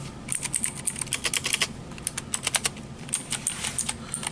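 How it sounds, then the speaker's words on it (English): Rapid, clicky keystrokes on an ETRobot mechanical gaming keyboard, typed alone in quick bursts with brief pauses, fairly loud and close. "A little noisy for my taste, but that is the mechanical keyboard types."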